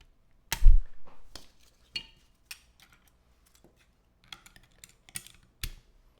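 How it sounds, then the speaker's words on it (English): Sparse keystrokes on a computer keyboard, a heavy thud followed by scattered light clicks and taps at irregular intervals, close and fairly quiet with gaps of silence between. "So you'll inherently have more mass hitting your keyboard."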